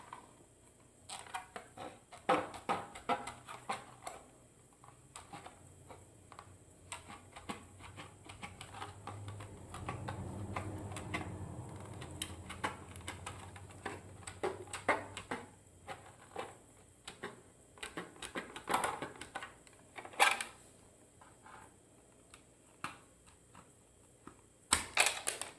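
Anovos TK stormtrooper armor plastic being cut along marked lines, a quiet sequence of irregular snips, clicks and crunching ticks close by, with brief pauses between cuts and a slightly louder stretch of scraping in the middle.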